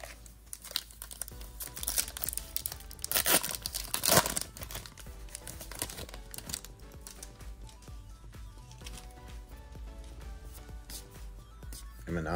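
Packs of 2024 Topps Series 2 baseball cards being opened, with foil wrappers crinkling and tearing close up in busy bursts, loudest early on, then lighter rustling and handling of cards.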